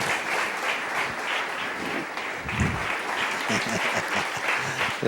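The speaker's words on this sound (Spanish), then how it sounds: "denle un aplauso al Señor Jesús" Congregation applauding in a Spanish-language church service, a sustained moderate wash of many hands clapping together, with voices murmuring and calling out beneath the clapping.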